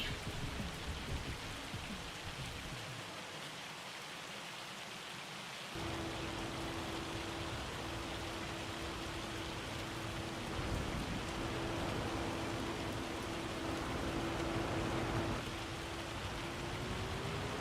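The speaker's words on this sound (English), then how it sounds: "Just raining now." Steady, hissing rainfall in Farming Simulator 25 patters continuously, with a faint tonal hum joining partway through; no voices.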